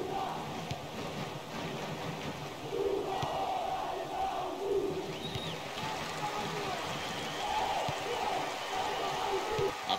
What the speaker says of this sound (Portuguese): Começa o jogo e a torcida se agita